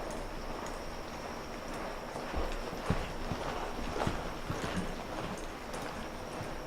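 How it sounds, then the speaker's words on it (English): A horse lopes under a rider in an arena, its hooves thudding in a steady, rhythmic clip-clop at moderate distance over low background noise. "So I'm going to go ahead and lope off to the right here."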